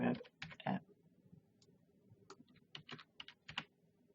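Code is typed on a computer keyboard in short irregular bursts of crisp key clicks, close and fairly quiet, with gaps between the bursts and no talking.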